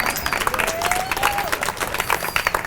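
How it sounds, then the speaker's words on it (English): An audience at an awards event claps in a lively round of applause, moderately loud and steady, with faint whoops or a whistle rising through it. "You can give a round of applause for that."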